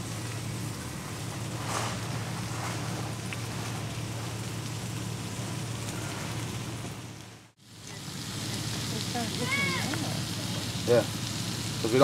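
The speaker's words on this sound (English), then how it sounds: "They're cooking French toast. And hash browns." French toast and hash browns frying together on a shared cooking surface at a campsite, a steady broadband sizzle running throughout with a brief dropout midway, voices talking faintly over it.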